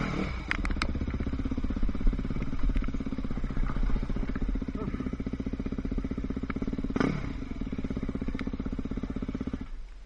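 Enduro motorcycle engine idling and puttering steadily with the clutch held in, a close, continuous low rumble with small rev swells and mechanical clatter.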